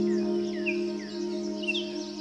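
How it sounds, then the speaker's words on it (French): A European robin sings in a forest, giving thin, high, scattered trills over a steady low hum, faint and distant. "Tu entends le chant cristallin d'un rouge-gorge."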